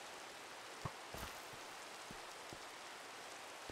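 Rain in a multiplayer survival game world falls as a steady, soft hiss, with a few faint, scattered drop ticks sounding through it.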